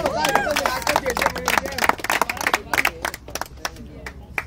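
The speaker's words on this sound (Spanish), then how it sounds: "¡Aplausos!" An audience at a rap battle claps, with dense, irregular bursts of hand claps and cheering up close. The clapping is loud at first and thins out toward the end, with voices mixed in.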